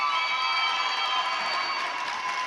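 Home crowd at a boys volleyball game cheering loudly: a sustained roar of shouting voices in a gym, steady and strong throughout with no pause.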